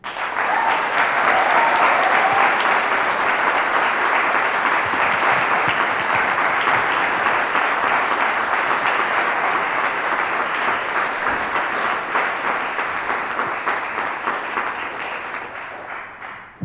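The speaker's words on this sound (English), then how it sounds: "Can I ask you to give another round of applause to Bella?" Sustained applause from a large audience, dense steady clapping that fills the space, holding strong before fading slightly at the end.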